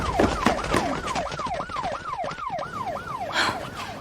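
A police siren wails in fast, repeating up-and-down sweeps at moderate volume over a busy street, with traffic and other noise in the background.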